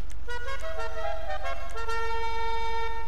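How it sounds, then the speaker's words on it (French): A soft customised car horn on a Dubsta vehicle in GTA 5 Online on PS4 sounds as a sustained, gentle multi-tone chord, shifting pitch partway through and holding steady over a constant low engine hum, with no talk. "Un petit klaxon doux."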